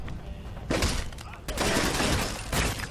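Gunfire erupts in Fallout 4's Nuka World, with dense, loud volleys of shots filling the scene in two heavy bursts.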